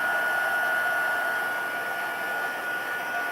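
A heat tool used for embossing blows loud, steady air at close range, a constant rushing whir with a thin high whine that holds throughout with no talking.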